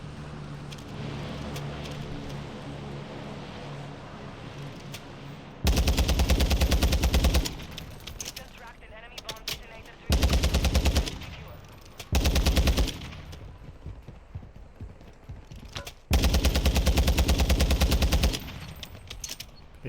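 A TAQ-V rifle fires in Warzone's Vondel Park, sounding as several loud sustained full-auto bursts with quieter ambient noise and distant shots between them.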